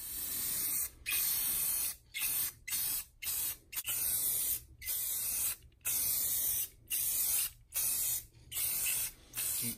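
Repeated bursts of an aerosol spray can apply matte, non-yellowing clear coat to a third-generation Toyota 4Runner grill, each hiss lasting about half a second to a second, separated by short pauses, close and steady without talk.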